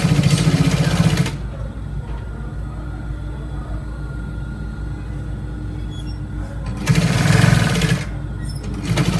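A sewing machine stitches down a trouser pocket, two loud bursts of rapid running at the start and near the end with a lower steady hum between.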